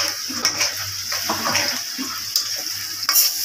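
Onions sautéing in a pan on low heat, a steady close sizzle with soft stirring scrapes and occasional sharper clicks, with no talking.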